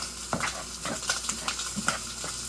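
Scrambled eggs with melted cheese sizzle in a hot pan while a utensil stirs and scrapes, giving a steady close frying hiss broken by soft, irregular stirring strokes.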